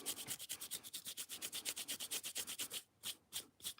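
A baby wipe rubbed briskly over a painted mould to take off antiquing metallic wax, making fast, even back-and-forth scrubbing strokes, close and quiet, about five or six strokes per second with a brief pause near the end.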